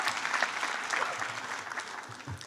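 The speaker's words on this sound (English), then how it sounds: "We can clap it out for PGS." An audience at a Class of 2022 baccalaureate service claps steadily in a dense, continuous round of applause, with no voices standing out.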